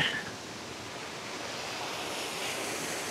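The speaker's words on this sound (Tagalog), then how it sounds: "Simpleng ilog pero malinis at maganda." A small, clean river in Barangay Baliwag, Magallanes, Cavite flows with a steady, broad rushing wash, constant and close, with no voices over it.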